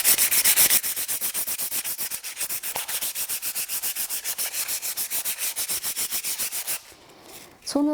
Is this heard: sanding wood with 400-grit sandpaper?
yes